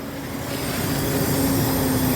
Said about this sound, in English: So you guys can hear the airbags.